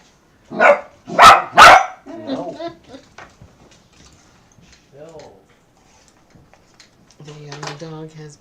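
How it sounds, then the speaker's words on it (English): Two loud, sharp dog barks ring out close together near the start, followed by quieter household sounds and people talking. "The dog has been heard from."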